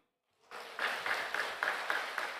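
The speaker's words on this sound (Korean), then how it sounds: "박수" An audience at a church sermon breaks into applause after a short pause. It starts abruptly and carries on as a steady patter of clapping with rhythmic pulses, moderately distant and fairly quiet.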